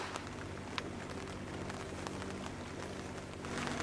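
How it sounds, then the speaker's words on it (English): Rain falling steadily around a sailboat, a dense, even hiss of drops across the whole stretch with faint scattered patters, fairly soft and continuous. "Now it started raining."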